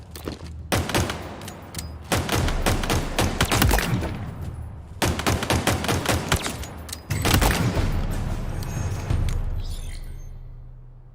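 The Bulldog shotgun in the video game Halo Infinite fires in loud, rapid bursts of booming blasts, with several strings of shots separated by short pauses, close and dominant throughout.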